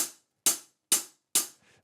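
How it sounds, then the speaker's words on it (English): Four crisp, bright hi-hat ticks spaced evenly apart, each short with a quick decay, the last one followed by a faint trailing sound. "The tick comes from the hi-hat,"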